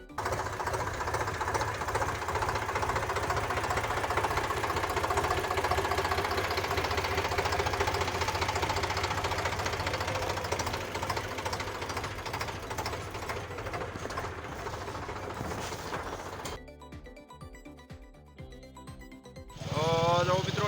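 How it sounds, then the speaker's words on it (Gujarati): A tractor carrying a load of harvested sorghum chugs loudly and steadily with a rough knocking rhythm, then briefly drops away before roaring back at the end. "તો ટ્રેક્ટર આપણે આગળ હાલ્યું જાય છે"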